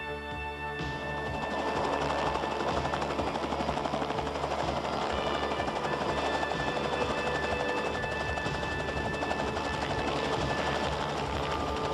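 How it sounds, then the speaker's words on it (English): A warmed-up helicopter runs steadily, its engine and rotor giving a dense, continuous throbbing roar that swells after the first second and then holds level, with no talk. "the chopper's warmed up and the pilot's ready"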